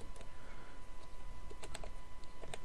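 An email address is typed on a keyboard with scattered, soft key taps that sit faintly under a dense, noisy background hum.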